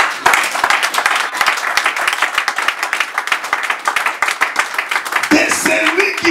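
A church congregation applauds to acclaim God, dense continuous clapping from many hands throughout, with a brief shift near the end as voices and other sounds rise over the fading applause.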